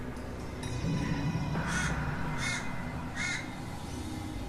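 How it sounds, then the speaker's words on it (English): Crow caws in a video game scene, three distinct harsh calls spaced roughly evenly and fairly close, heard over a steady low ambient hum with no talking. "Damn crow."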